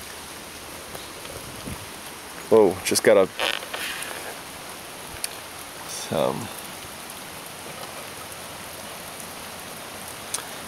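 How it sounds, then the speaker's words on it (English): Steady rain patters across the whole scene, a broad hiss of drops, with a brief exclamation and a few words spoken partway through. "stuck in the rain."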